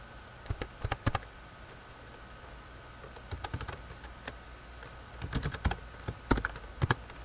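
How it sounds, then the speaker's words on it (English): Bursts of typing on a computer keyboard, close and crisp key clicks in short irregular runs separated by quiet pauses, with no voices. "oops, Morgan, I'm having typing issues."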